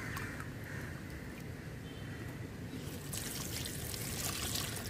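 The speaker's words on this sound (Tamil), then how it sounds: "நம்ம ஒரு ஒரு செடிக்காக நம்ம தண்ணியை வந்து தேவையான அளவு வேறு வழியாக நம்ம கொடுக்க போகிறோம்." Water mixed with waste decomposer being poured onto garden plants, a steady close trickle and splash that grows louder and brighter near the end.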